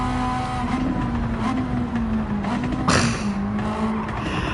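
A Mazda CX-30 driven in Gran Turismo 7, its engine holding a steady drone with shifting pitch, a brief tire squeal or skid burst near the end, loud and continuous with no talking.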